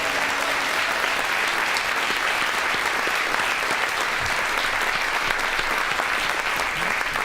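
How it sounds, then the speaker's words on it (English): Sustained, dense applause from an audience at a traditional music concert, a steady loud clapping wash for several seconds with no voices. "One more round of applause for everyone who's performed tonight"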